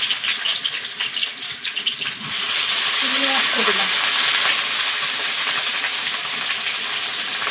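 Prawns seasoned with salt and turmeric hit hot oil in a kadai and burst into a loud, sustained sizzle that lasts to the end. A voice is heard briefly just before the sizzle starts.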